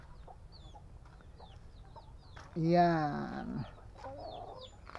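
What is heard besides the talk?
chickens clucking, Buff Orpington hen and rooster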